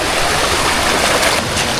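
A river flowing strongly through a rocky stretch in mid-channel makes a loud, close, continuous rushing wash that stays steady throughout, with no voices heard.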